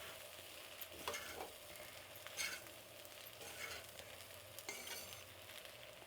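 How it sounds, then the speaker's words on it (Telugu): Cooked rice being gently stirred in a warm pan for lemon rice, soft faint scraping strokes recurring every second or so over a low, quiet sizzle. "నాకైతే ఇలా నెమ్మదిగా కలపడం అంటే చాలా ఇష్టం అండి."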